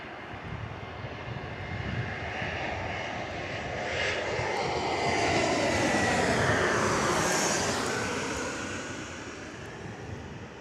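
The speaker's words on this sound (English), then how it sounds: "Enjoy as we see this beautiful aircraft head over the top of us here at Mitch'S Mound." A low-cost carrier airliner passing overhead at Perth Airport, a broad engine roar swelling as it nears, peaking loudly directly above and then fading away.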